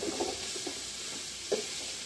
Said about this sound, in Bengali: কষে নেওয়া হচ্ছে।